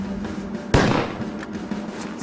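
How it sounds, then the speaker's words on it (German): A gunshot in a First World War battle rings out as a single sharp, loud bang that quickly decays over a low, steady background. "Darauf fallen mehrere Schüsse."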